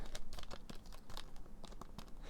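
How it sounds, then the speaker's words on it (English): A paper lyrics booklet is worked loose from a plastic CD case, giving a run of close, dry crinkling, scraping and light clicking sounds in irregular bursts. "Try to get the booklet out."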